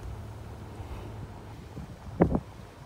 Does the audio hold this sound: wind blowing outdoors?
yes